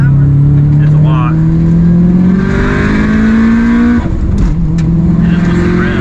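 A big-turbo Subaru Legacy engine revs hard under acceleration, its loud droning note climbing steadily in pitch. Near the four-second mark it dips briefly at a gear change, then pulls upward again from inside the car.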